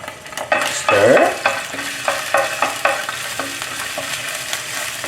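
Ginger, garlic, mint and sambal hot chili sauce stir-fried in a hot pan: a close, steady sizzle broken by repeated scraping strokes of a spatula, with a louder burst near the start.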